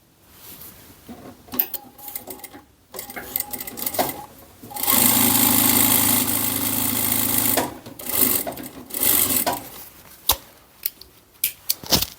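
A straight-stitch sewing machine running with its stitch length raised to 4, gathering knit fabric for a high-neck knit blouse: a sustained loud whir of several seconds in the middle, with shorter bursts and small handling clicks around it.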